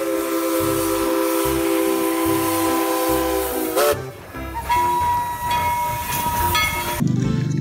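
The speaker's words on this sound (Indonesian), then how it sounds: "Widih, ini kereta Thomas." A Thomas toy train plays its electronic sounds, a bright steam-whistle tune with chugging rail noise and shifting tones, loud and close, no one speaking over it.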